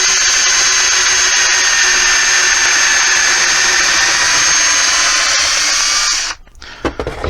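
A power drill bores into wood for a cottage coat rack with cubbies, a loud steady high whine running for about six seconds before cutting off abruptly, followed by a few light handling knocks.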